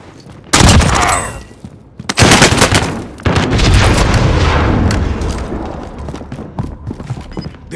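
Gunfire in Call of Duty: Modern Warfare: loud, close bursts of rapid automatic fire and heavy booming shots, sustained for several seconds before tapering into scattered distant cracks.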